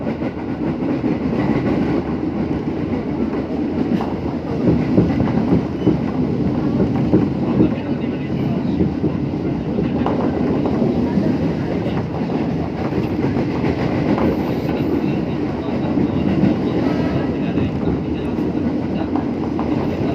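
A JR 203 commuter train pulls into Pondok Ranji station, its loud, steady rumble and rattle of wheels on rails running continuously throughout.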